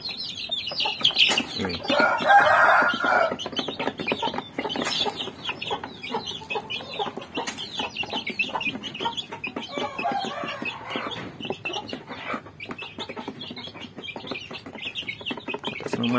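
Several chickens cluck and chatter steadily while eating a morning feed nearby under overcast skies, with occasional louder squawks and pecking sounds mixed in.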